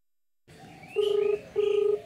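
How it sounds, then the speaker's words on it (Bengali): An outgoing phone call ringing back over a smartphone loudspeaker after a short silence, two steady tone bursts with a gap between them over faint background hiss. "বোঝা যাচ্ছে যে ফোনটা কিন্তু রিং হচ্ছে।"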